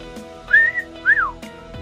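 A person whistles two rising-and-falling approving notes, close and clear, with a short click at the start and another near the end.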